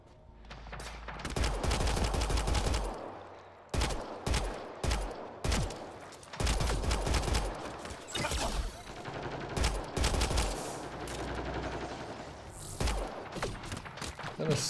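Pistol and weapon fire in a firefight in Mass Effect Andromeda, repeated bursts of sharp, loud shots with short pauses between volleys, close and punchy over fourteen seconds, with no speech.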